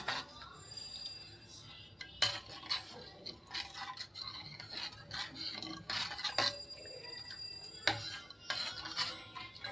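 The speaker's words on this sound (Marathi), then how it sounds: "चांगला हलवून घेऊया आपण, खाली चिटकलं नाही पाहिजे म्हणून।" A spoon scraping and clinking against a pot while thickening milk is stirred for dudh paak, irregular close metallic taps and rubs in bursts with quiet gaps between.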